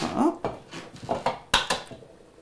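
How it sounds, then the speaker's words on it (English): Egg cracked on the rim of a kitchen bowl and broken in, with a few sharp taps and clicks of shell against the bowl followed by a softer drop, close and clear. "Just break it in. Try not to get any eggshell in there."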